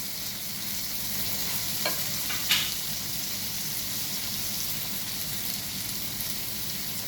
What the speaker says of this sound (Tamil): இப்போ தக்காளி 2 தக்காளி வெட்டி வச்சுருக்கேன், போடுறேன்.